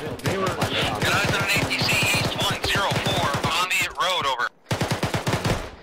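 Gunfire in the military game Arma 3 crackles as rapid, loud automatic bursts and single shots, with a brief gap near the end before the shooting resumes.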